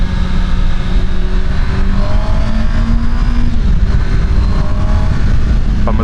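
A 2024 Honda CBR650R motorcycle accelerating on the road, its engine droning loudly and steadily with rising pitch, heavy wind rush filling the sound throughout with no talk.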